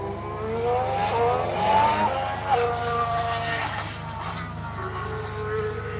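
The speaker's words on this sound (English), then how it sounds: "Could give a different pitch or tone to the sound of the engine depending on how much weight you're carrying in the car." A race car engine drones steadily, its pitch rising and falling as the car accelerates and eases off, heard alone with no talking over it.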